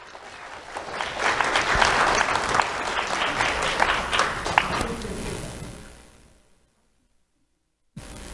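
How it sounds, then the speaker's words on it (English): Audience applause at a sheriff's office awards ceremony for a young student, building to a full, dense round of clapping that tapers off and falls to silence near the end. "Let's have a round of applause for Sarah Carr."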